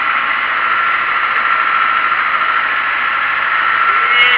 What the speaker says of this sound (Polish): I traktor sobie spokojnie pracuje.